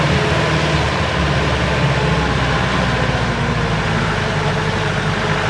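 An old jeep engine labours uphill in second gear on an off-road track, a loud, steady low growl that holds close and constant throughout.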